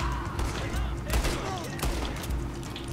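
Gunfire in the online mode of Red Dead Redemption 2 during a shootout: several loud, sharp shots crack over steady game noise, with voices talking in the background.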